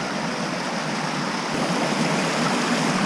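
A river rushes steadily at night, a continuous broadband wash of flowing water holding even and close from start to end with no voices over it.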